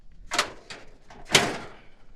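A door on a 1934 Ford 5-window coupe swings on its original hinges, giving two or three close, sharp clunks and thuds spaced across a couple of seconds with no voices.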